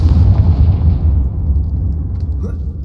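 A Confringo spell blast in Hogwarts Legacy, a loud, sustained rumbling fiery explosion that swells at once and slowly decays over a few seconds with a heavy low roar.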